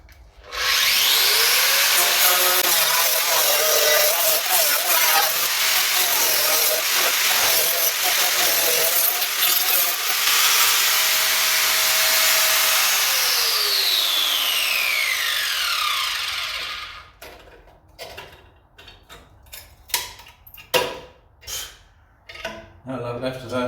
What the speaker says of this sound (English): this angle grinder is that loud that you need it